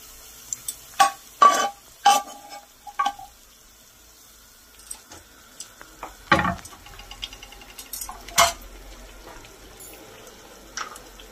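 Fried onions stirred into a sizzling pan of chicken korma, with scattered bursts of scraping and sizzling separated by quieter pauses, heard up close with no voices.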